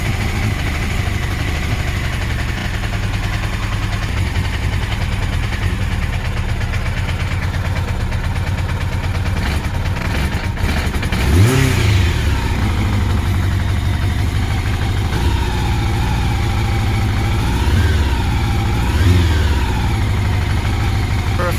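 A Honda CBR750 Hurricane motorcycle engine fires up for the first time in three years, idling steadily with a loud, continuous mid-range drone and a couple of sharp throttle blips partway through.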